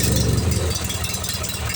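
A Briggs & Stratton opposed twin engine with a recently cleaned carburetor runs roughly close up, a loud steady idle with rattling, uneven pulsing and knocking, no speech over it.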